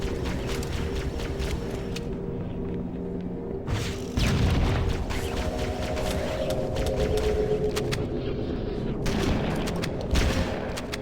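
Rocket launcher blasts in Halo: Combat Evolved, a few loud booming shots with heavy low rumble and bursts of explosion noise over continuous game background, with a brief speaking voice at points.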